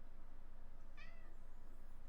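A house cat gives one short, faint meow against a steady low background hum, with no talking.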